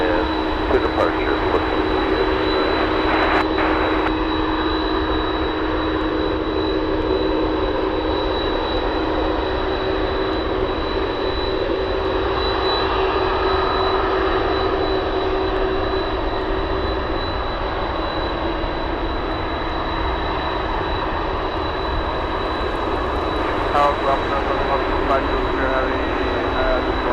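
A jet aircraft engine at Anchorage airport on a gusty day roars in a steady, loud wash, with a sustained tone running throughout and a voice speaking over it.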